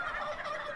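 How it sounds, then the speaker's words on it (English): Turkeys gobble together in a town parade marching down Main Street, a continuous dense chorus of overlapping gobbles at moderate distance, with no talking. "Shawn, how many turkeys are in this parade?"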